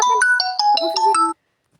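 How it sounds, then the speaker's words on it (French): A phone ringtone for an incoming call chimes through a quick melodic run of bright electronic tones, loud and close, stopping abruptly after about a second and a half and followed by silence. "t'as entendu le bruit de l'appel."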